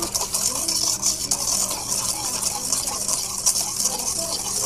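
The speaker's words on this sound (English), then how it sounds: "we're going to stir this all together" Hot chocolate mixture with hot whole milk being stirred in a pot, a continuous swishing and scraping of liquid with small clinks, close and steady for a few seconds, no talking.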